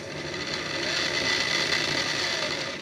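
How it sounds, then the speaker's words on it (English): A model railway middle axle grinding against a platform edge gives off a continuous harsh, gritty whir that holds steady and close for about three seconds, with no talk over it. "It's literally the middle axle's grinding on it"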